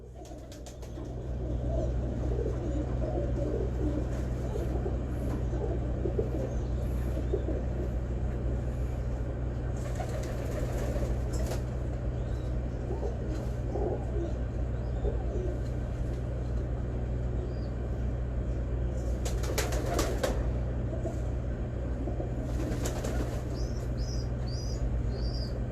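A pigeon held in the hand, its soft coos blending with faint wing flutters over a steady low outdoor hum and some background noise, with no talking.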